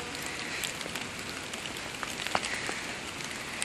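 Freezing rain falls during a storm in White Plains, New York, a steady close patter of drops on hard surfaces with occasional sharper ticks, continuous and moderately loud without talk.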